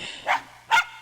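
In the video game The Journeyman Project: Turbo!, a dog barks twice inside an apartment, two short, evenly spaced woofs, muffled and fairly close, with no talk.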